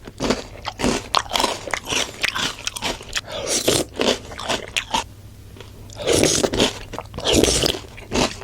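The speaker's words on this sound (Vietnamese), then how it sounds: "Ngũ cốc giòn rụm rất là ngon luôn các bạn ơi." Crunchy cereal eaten with cheese yogurt in a close-up mukbang, loud crisp bites and chewing crunches in a steady run, with a brief quieter pause before another burst of crunching.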